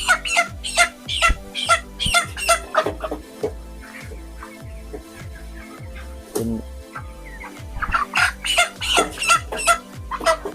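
Chickens cluck repeatedly in a close, busy stream of short calls, loud and irregular, with brief pauses between bursts and no talking over them.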